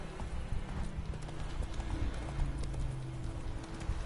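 Horse hooves clip-clop steadily at close range in The Witcher 3, with a brief neigh breaking in among the footfalls over a low ambient game background; a voice talks faintly behind.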